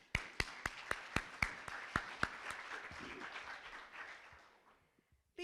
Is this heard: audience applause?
yes